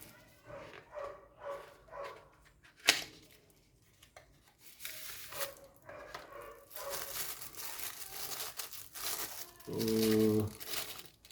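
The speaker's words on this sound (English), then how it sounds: "Now I will quickly unbox it and show you how it looks." The cardboard packaging of a Swiss Military SM-JOLT 10000mAh power bank is opened close up, giving repeated crinkling, rustling and tearing with one sharp snap partway through and a short scrape near the end.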